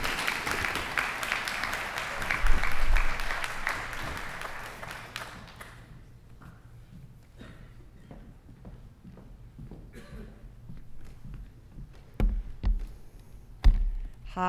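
An audience at a high school senior awards night in Cleveland Heights claps for Ann Barrett as she comes forward. A burst of applause lasts about five seconds, then thins to scattered taps and footsteps in a quiet hall.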